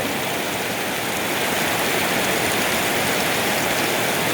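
Rain pours steadily over rice fields, a dense, even hiss that stays loud and close throughout, with no voices.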